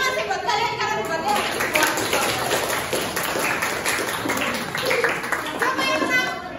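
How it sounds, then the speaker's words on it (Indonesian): An audience claps for the participants of a debate, a steady patter of applause running the whole time beneath a person speaking over it. "Tepuk tangan sih buat kalian karena debatnya."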